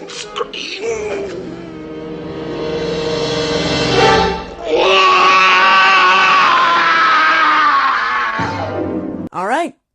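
Screaming from a Vincent Price horror film: a loud, sustained, strained human scream that breaks briefly and resumes even harsher, then cuts off with a short final shriek.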